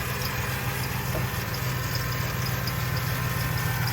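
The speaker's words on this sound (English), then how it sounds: "All right, we have the vehicle turned on" A 2013 Chevrolet Silverado with a misfire fault idles. It gives a fairly quiet, steady low engine hum with faint vibration and no voices.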